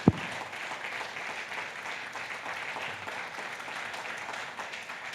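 After a sharp thump at the start, a congregation claps steadily during a Sunday church service in a reverberant hall, a dense even patter of applause.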